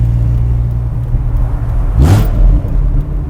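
Dodge Viper SRT-10 with side-exit exhausts idling in a deep, loud rumble, then a single sharp rev blip that swells and falls back to the idle.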